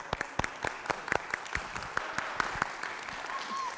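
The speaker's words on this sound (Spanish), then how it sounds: "Nuevamente un aplauso, por favor." An audience applauds at a ballroom dance event, with scattered, fairly sparse claps spread across a few seconds.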